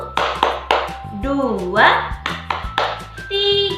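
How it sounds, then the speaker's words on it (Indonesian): Children clapping hands in time while counting aloud in a school group game, sharp claps spaced out under an adult's lively voice. "kita tepuk 5 dulu ya"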